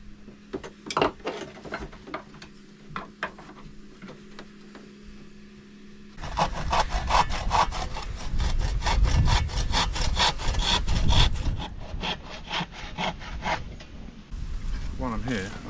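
Hand saw cutting a square out of marine plywood, a few sparse strokes at first, then a fast, steady run of rasping back-and-forth strokes, close and loud.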